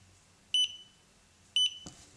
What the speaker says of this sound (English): It will start beeping like crazy for some time.